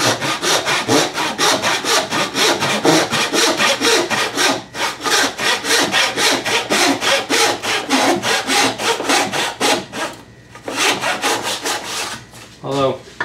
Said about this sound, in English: This happens to be my dovetail rip saw, so I'm not terribly concerned here about the quality of the cut